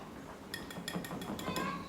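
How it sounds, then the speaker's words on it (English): A spoon or whisk mixes all-purpose flour and baking powder in a bowl, giving about six sharp, close clinks against the bowl in an even rhythm over a low background hum. "I'm going to mix the all-purpose flour and the baking powder, and I'm going to mix"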